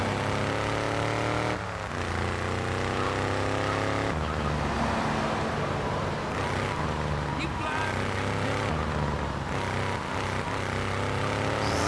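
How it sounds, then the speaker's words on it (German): A car engine in the video game GTA III runs as a steady droning hum throughout, with gear-like pitch shifts and no speech over it. "Da höre ich das Auto."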